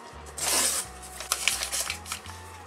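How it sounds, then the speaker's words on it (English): A journal page is torn out and crumpled up by hand at close range: a quick ripping swish, then several sharp papery crinkles and crackles, alone over a faint low hum. "Tear out and crumple."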